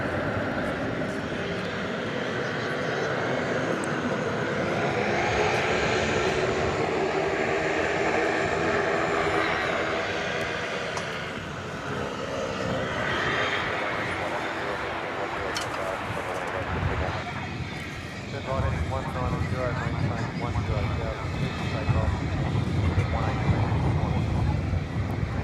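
A Qantas jet takes off for Melbourne at DFW, its engines roaring in a broad, sustained rumble that swells and shifts, with wind buffeting and a voice talking over it.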